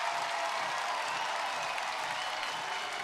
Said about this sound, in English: That draws a raucous applause